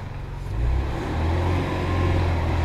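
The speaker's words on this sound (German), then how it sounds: "Ganz langsam fahren, ich will die Reifen nicht rammeln." Car driving slowly inside a workshop hall, a low engine hum near the listener that swells slightly and then holds steady at a gentle, constant rumble, with no talking.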